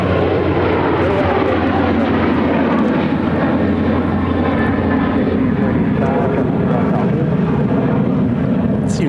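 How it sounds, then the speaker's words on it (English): A United Airlines Boeing 737-900ER jet airliner at Phoenix airport, a loud, steady broadband engine roar with a low hum, continuous throughout, with a voice talking over it. "It's United Flight 2398 headed to Washington Dulles on a 737-900ER"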